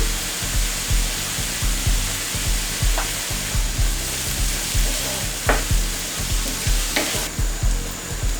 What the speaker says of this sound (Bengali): পেঁয়াজটা মিডিয়াম ফ্লেমে ভাজতে হবে